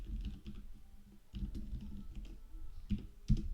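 Typing on a computer keyboard, including a Ctrl Enter press, with a steady patter of close key taps in bursts and a firmer final keystroke, no talking.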